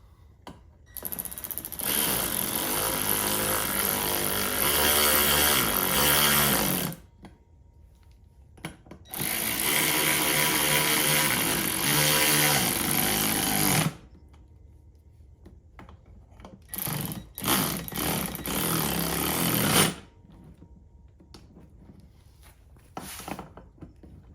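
A Ryobi power tool runs in loud sustained bursts while working on a 2015 Chevrolet Silverado during a water pump change, with three long whirring runs separated by pauses and small clicks, no talking.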